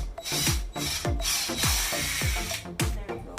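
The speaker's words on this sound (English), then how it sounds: "I'm going to just drill it in the center" A power drill bores a hole in a door, giving repeated short whirring bursts that spin up and down about every half second, close by and moderately loud.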